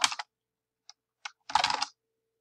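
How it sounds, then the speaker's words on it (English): Computer keyboard typing into a document: a few close, crisp key clicks in short bursts with small pauses between, ending in a quick flurry of keystrokes. "So you can see you can type right on the document."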